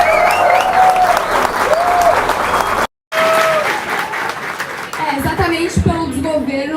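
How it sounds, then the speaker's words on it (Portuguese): A crowd claps for Amanda Vettorazzo at a political event, with steady applause running beneath a voice that talks over it; a brief dropout interrupts it midway. "eu peço uma salva de palmas para ela."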